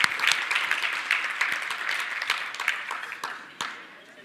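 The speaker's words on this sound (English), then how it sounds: "A round of applause for organizing this." Audience applause at an academic awards ceremony, a moderate burst of many hands clapping that slowly fades toward the end.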